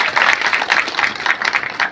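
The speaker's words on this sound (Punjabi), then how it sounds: "ਮੈਂ ਬੇਨਤੀ ਕਰਾਂਗਾ ਸਾਰੇ ਜੋਰ ਨਾਲ ਤਾੜੀਆਂ ਇੱਕ ਵਾਰੀ ਜ਼ਰੂਰ ਮਾਰਨ" Applause at a village International Women's Day celebration led by the sarpanch, a steady crackling wash of many hands clapping close by, sustained throughout with slight pulsing and no voices standing out.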